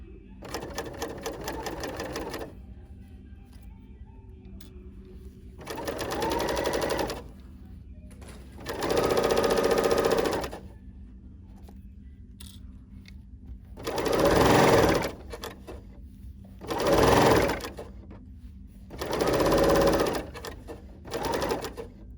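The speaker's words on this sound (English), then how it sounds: "on my serger that I'm using right now" A serger sews quarter-inch seams on a cowl neck tee in six separate bursts of fast motor whir, each lasting a couple of seconds, with quiet pauses between them and no talking.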